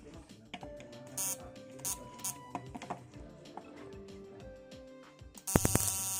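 Crackling electrical pops and clicks from a homemade single-transistor inverter over a steady buzzing hum, with irregular bursts, ending in a sudden loud, harsh crackle.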